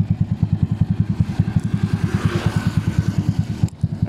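A motorcycle with a 196cc square engine runs on a road test, its close, loud single-cylinder exhaust thumping in a steady rapid pulse throughout with no talk over it.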